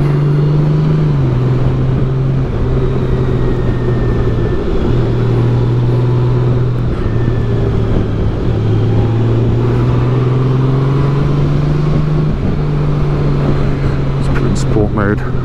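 A Honda Goldwing motorcycle engine in sport mode hums steadily and shifts pitch slightly as it revs, running continuously underneath people talking.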